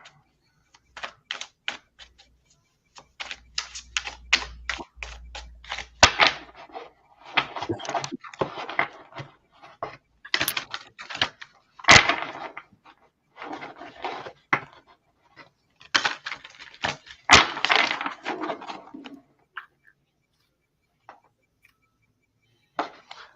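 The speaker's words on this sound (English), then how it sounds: "So I was shuffling cards and 3 flew out" Oracle cards shuffled by hand, producing bursts of rapid, crisp flicking and riffling clicks in irregular clusters with brief pauses between, close and fairly loud in an otherwise quiet room.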